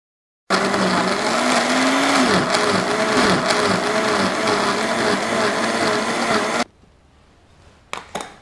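A blender whirs loudly and steadily for about six seconds, blending aloe vera gel and green banana into a drink. The motor's pitch wavers slightly before it cuts off abruptly, followed by a few faint clatters.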